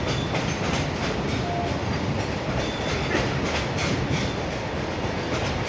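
A local train bound for Badlapur rumbles steadily into platform 1, wheels clattering over the rails with a continuous, fairly loud mechanical roar.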